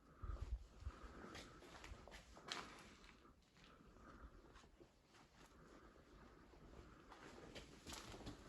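Pigeons coo faintly inside an abandoned mining rig, with soft, scattered calls and occasional light fluttering amid a low, steady background hum.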